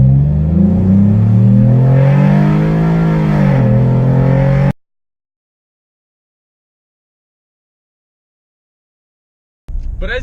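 A lightly modded 2014 Ford Taurus front-wheel-drive V6 accelerating hard, a loud close engine note climbing steadily in pitch for several seconds, then cutting to silence before a brief burst of engine sound returns.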